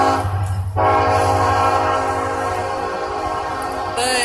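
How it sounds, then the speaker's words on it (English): A passing train blows its horn in a long sustained blast near a park in the early morning, loud and close, over the rumble of rail cars, with the horn pitch shifting near the end. "That's the train."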